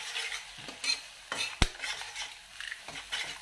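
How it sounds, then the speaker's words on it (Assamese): Onions with spices fry quietly in a pan, a soft sizzle broken by repeated scraping stirs and one sharp utensil clink against the metal, fairly close and faint. "এতিয়া মই পিঁয়াজখিনি মছলা দি পেলাই ভাজি লৈছোঁ"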